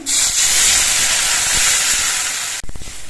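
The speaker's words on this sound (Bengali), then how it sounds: "এবার এর মধ্যে জল দিয়ে দিচ্ছি" Water goes into a pan of spiced potatoes that have been frying, setting off a loud, sustained hiss and sizzle of steam up close. The hiss cuts off abruptly near the end, followed by a few soft knocks.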